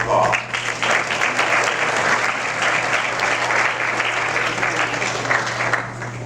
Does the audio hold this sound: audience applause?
yes